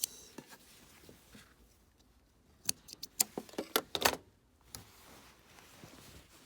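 Scissors snip sewing threads after stitching a boned bustier, a run of sharp close clicks and metallic ticks clustered mid-clip between quieter rustles, with no talking.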